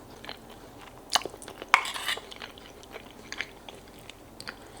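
Someone chews wild boar meatballs with cheesy mash and quince compote, close soft bites and a few crunchy chewing bursts spaced across a quiet background.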